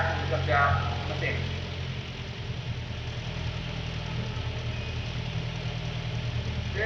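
A truck engine on a test stand runs steadily during an exhaust emission test, giving a low continuous idling rumble with a voice briefly talking at the start.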